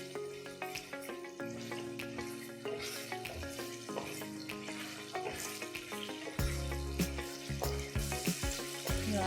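Amaranth flour sheera (rajgira shiro) sizzles in ghee in a pan as its water cooks off: a steady, close, crackling fry with occasional scraping stir strokes and no talking.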